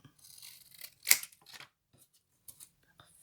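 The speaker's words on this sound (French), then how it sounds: "Maintenant, on va prendre des ciseaux." Scissors snip through folded paper cardstock with one sharp, loud close cut followed by a few quieter clips and rustles, close up in a quiet room.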